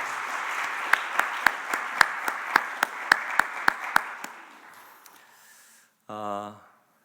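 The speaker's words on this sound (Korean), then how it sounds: "오늘 귀한 찬양해 주신 우리 형제 위해서 다시 한번 크게 축복하고 박수하겠습니다" At a Sunday youth worship service, a congregation claps for a singer in about a dozen sharp, evenly spaced beats at a moderate distance, then fades to quiet before a brief burst of speech.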